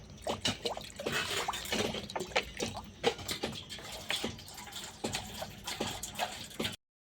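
Water splashes and trickles into a cooking pot on a clay stove for steaming cauliflower, in uneven bursts, close and fairly quiet, ending abruptly in silence.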